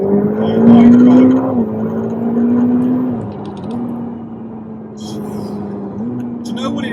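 A track-spec Ferrari F8 Tributo's twin-turbo V8 pulls hard from inside the cabin, a loud steady engine drone climbing through two gear changes, with a brief excited voice and road noise in the background.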